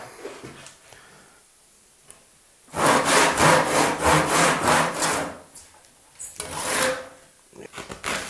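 Hand saw cutting through plaster coving during a house extension, heard as a close, loud run of rhythmic rasping back-and-forth strokes, then a pause and a shorter second burst of sawing.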